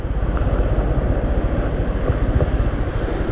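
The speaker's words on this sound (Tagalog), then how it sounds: "Pero grabe yung alon." Strong sea surf and gusting wind at the shore, a steady loud roar with rolling wave rumble and wind buffeting the microphone throughout.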